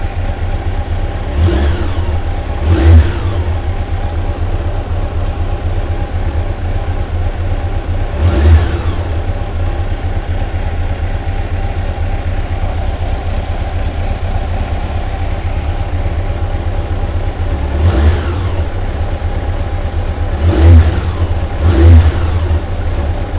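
A Yamaha FJR 1300 motorcycle engine idles steadily during fuel-injection synchronisation, broken by several quick throttle blips that rise and fall in separate bursts, some in close pairs, loud and close with no talking.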